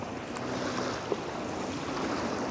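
Waves on the Columbia River in Oregon, seen from a kayak near shore, make a steady, loud wash with gusty wind noise throughout and no voices.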